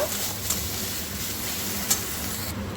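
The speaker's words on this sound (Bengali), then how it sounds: "রসুনটা খুব ভালোভাবে আমি মশলার সাথে একটু ভেজে নেব" Garlic paste frying with spices in a pan, a steady close sizzle and hiss with faint stirring clicks, running the whole time.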